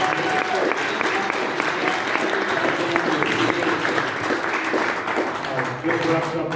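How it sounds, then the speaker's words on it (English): Audience applauding filmmakers at a Q&A screening at the Mob Museum, dense sustained clapping from a crowd filling the whole stretch at steady loudness. "Round of applause for our filmmakers."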